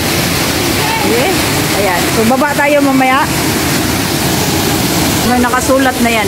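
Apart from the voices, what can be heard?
waterfall, Kasabangan Falls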